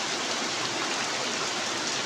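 Heavy rain falls continuously as a dense, even wash of broadband hiss with no breaks. It sounds moderately loud and steady, and no voices are heard.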